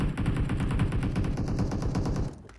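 Rapid automatic gunfire from a weapon in the mobile battle-royale game PUBG Mobile, a dense steady burst of close, loud shots that runs for about two seconds and then cuts off.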